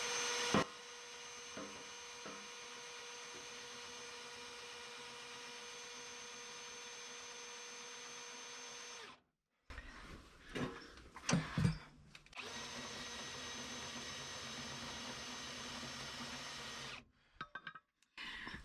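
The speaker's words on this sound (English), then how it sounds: "Then we elongate the winch as far as it goes." An electric winch on an expedition vehicle pays out its cable with a steady, fairly faint motor whine for about nine seconds, pauses amid some clunks, then runs again for several more seconds.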